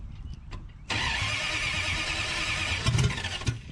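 A 1966 Dodge Dart GT with a 273 engine cranks briefly, then catches and settles into a loud, steady idle, with a couple of faint clicks before the start and a slight rise in revs near the end.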